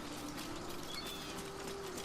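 A bird in the video game Baldur's Gate 3 gives a faint, soft coo over a constant background hum of game ambience.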